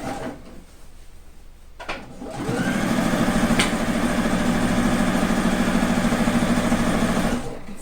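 Sewing machine stitching a sleeve seam through thick layers of patchwork quilt fabric for a coat, running in a steady rapid whir for several seconds after a few clunks of handling, close and alone.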